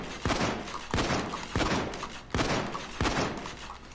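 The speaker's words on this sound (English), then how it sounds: "I just wasted 8 shots" Shotgun blasts in the video game Payday 2, five heavy booming shots spaced roughly evenly about every second, each with a trailing echo, loud and close.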